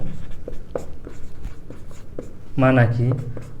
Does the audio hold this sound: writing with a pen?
yes